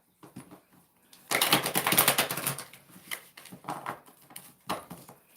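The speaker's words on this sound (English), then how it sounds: "I'm going to give it 3 shuffles" Tarot cards shuffled by hand three times for a daily reading, a burst of dense riffling flutters in the middle followed by quieter flicks and taps, close and clear with no talking.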